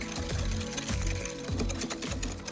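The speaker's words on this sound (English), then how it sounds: "Then whisk the yolks and sugar together" Egg yolks and sugar beaten together, apparently with an electric mixer: a steady, loud mechanical whir with a regular pulsing rhythm, close up and with no talking.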